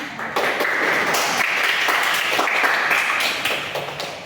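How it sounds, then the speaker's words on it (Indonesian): Classroom applause for a student, many hands clapping in a dense, continuous patter close by for a few seconds, with sharper individual claps standing out now and then. "Kita beri tepuk tangan."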